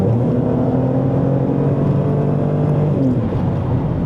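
A 1988 Ford EA Falcon fitted with a 2008 Falcon engine accelerates hard from 80, its steady engine note climbing and rising in pitch over road and cabin roar, heard from inside without any talk.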